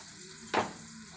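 Ginger and tomato dropped into a hot pan of oil for a dhaba-style aloo bhindi salan, setting off a sudden loud sizzle that quickly settles into a steady, low frying hiss.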